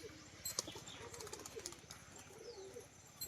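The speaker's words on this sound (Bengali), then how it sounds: "দেখুন পায়রা প্রচন্ড ছটফটে পায়রা" A restless pigeon flaps its wings in short, faint bursts, with a few soft coos in the background.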